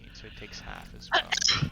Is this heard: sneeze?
yes